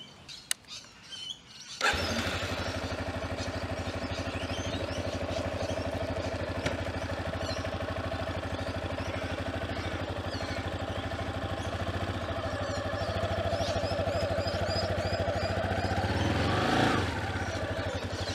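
A Yamaha XT250 motorcycle in a car park starts up after a few quiet seconds with birdsong, then idles and rides at low speed with a steady engine drone, briefly rising in revs near the end.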